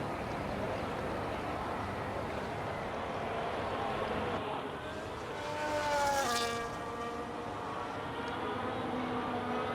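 Race cars pulling away from a formation lap in the F1 25 video game, a dense blended engine roar holding steady, with one car's rising whine sweeping close past midway before the pack noise settles again.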